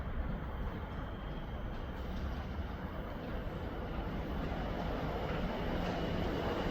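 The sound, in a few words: tram train passing through station platform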